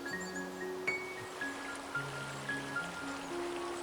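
Katun river in the Altai mountains of Siberia flowing steadily, a continuous broadband wash of moving water with small trickling splashes, heard alone at moderate level with faint tonal hums underneath.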